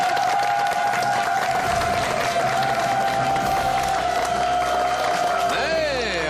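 Studio audience applauding to welcome a guest doctor onto a Korean TV health show, steady dense clapping throughout with a tonal music line underneath and a rising swoosh effect near the end.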